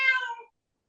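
A house cat gives a single clear meow, close and moderately loud, lasting about half a second before silence.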